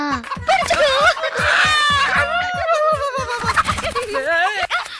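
Chickens cluck and squawk loudly and close by in a busy burst of fowl calls, mixed with voices talking over them.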